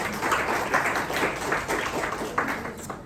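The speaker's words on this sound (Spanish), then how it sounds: "Un aplauso grande." A class of students claps for a classmate's idea, a modest, uneven patter of hands at moderate level with individual claps standing out.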